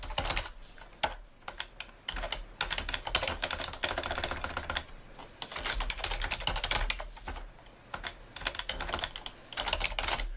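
Rapid, continuous typing on a computer keyboard while writing code in a C++Builder/Delphi programming environment: dense, close clattering keystrokes that run for about ten seconds with only short pauses, no talking.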